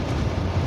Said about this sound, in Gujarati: પવન છે થોડોક જોરદાર